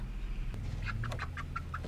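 Silkie chickens in a pigeon loft, a quick run of about six short soft clucks and chirps over a low steady background hum.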